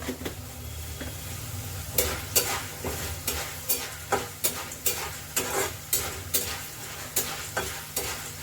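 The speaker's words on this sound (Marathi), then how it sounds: "आपली ही फोडणी होत आलेली आहे" Spice tempering sizzles in hot oil in a pan for a South Indian dish, with a steady background fizz and rhythmic scraping stirs roughly every half second after the first two seconds.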